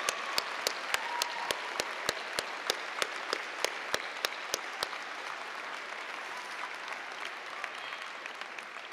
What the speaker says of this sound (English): let us give your family and friends a rousing round of applause